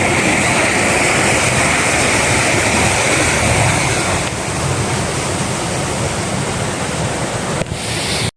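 Water rushes out through the open sluice gate of an old village irrigation tank, a loud, continuous roar of churning flow that holds steady throughout with no pauses.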